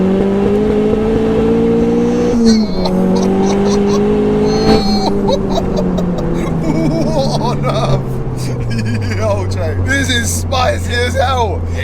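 Stock 2.3-litre engine in a 507bhp Ford Fiesta hyper hatch revving in steady held rises that slowly sag lower, loud and close, with someone talking over it.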